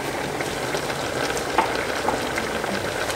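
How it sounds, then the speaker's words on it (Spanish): Sofrito vegetables with sour orange, carrots and parsley fry in a pan with a steady, dense sizzle that fills the whole clip, close and continuous, with no voices. "pero primero tiene que sofreírse, por eso se llama sofrito"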